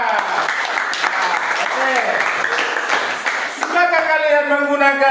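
Students in a classroom clap together steadily for about three and a half seconds, with a teacher's voice over the noise, then young voices break into a sung, chant-like response.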